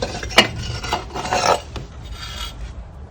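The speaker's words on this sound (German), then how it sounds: "Nachdem die zweite Schraube gelöst wurde, kann das Hitzeschutzblech abgenommen werden." A metal heat shield plate is worked loose and lifted off the engine of a Mercedes W124 300TD estate. Short scraping and rubbing sounds of metal come in a few irregular bursts, close and fairly quiet, with no talking.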